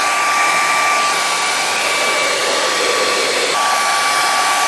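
A cheap ten-dollar electric hair dryer blows steadily at close range, a loud constant airy whoosh with a thin whining motor tone that wavers slightly and then settles, with no talking.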